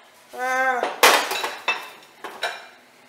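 A cooking pot is opened in a kitchen: a short metallic ring and scrape, then a few sharp clanks of the lid against metal, close and fairly loud.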